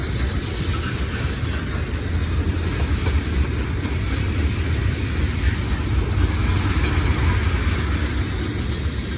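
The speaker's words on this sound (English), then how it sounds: "Good thing I'm still able to record the train though." A freight train with small tank cars rolls past nearby at Depew Amtrak Station, with a heavy, continuous rumble and rushing noise that holds steady throughout, no voices heard.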